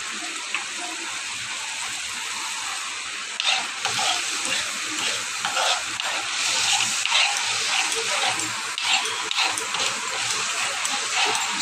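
Water poured into a pan of fish and potato curry, giving a continuous bright hiss and sizzle with bubbling that swells toward the middle, close and steady, with no talk.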